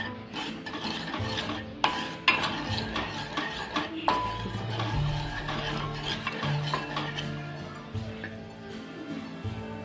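Crushed asafoetida and fenugreek being stirred in hot oil in a pan for mango pickle, with steady scraping and light clinks of a spoon against the pan over a soft sizzle, close and continuous.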